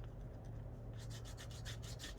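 A wet wipe rubs across paper on a mixed media junk journal page, starting as faint scuffing and turning into quick, rhythmic swishing strokes, close and quiet.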